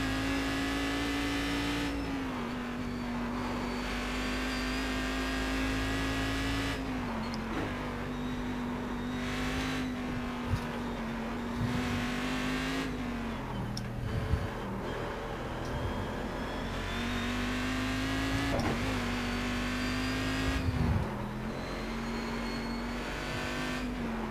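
Continuous high-pitched race car engines whine and rev steadily in iRacing on the Nordschleife, with gear shifts and a few brief tire squeals, loud and close throughout.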